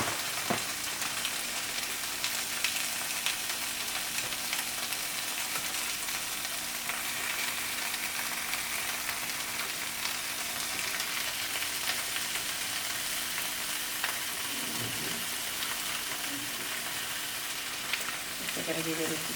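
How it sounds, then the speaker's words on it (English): Meat frying in a hot pan, a constant dense sizzle that stays loud throughout, with a few faint clinks and brief low murmurs near the end. "Then I'm gonna add the meat last in the pan."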